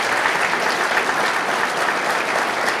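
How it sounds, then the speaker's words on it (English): An awards-ceremony audience gives sustained applause for the award recipients, a dense, loud wash of clapping from a large crowd that holds steady throughout. "Please join me in one last round of applause for all of our award recipients tonight."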